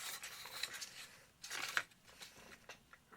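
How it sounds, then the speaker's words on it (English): A heavy-base craft knife slices through paper to cut out a wing, with faint scratchy strokes in a loose, irregular rhythm and a slightly louder, sharper cut near the middle, heard close and without any talking. "I'm using a heavy base craft knife for this now"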